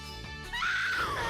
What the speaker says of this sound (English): Oh, God, that scream. That freaking scream.